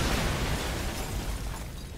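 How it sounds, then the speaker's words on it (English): A grenade explodes in the video game Hatred, a dense noisy blast that fills the clip with a rumbling burst and slowly fades. "Press G to throw a grenade."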